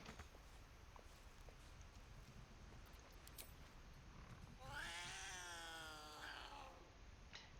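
A cat in the Baldur's Gate 3 video game lets out a drawn-out, wavering meow at close range after a quiet stretch, then a softer short call follows.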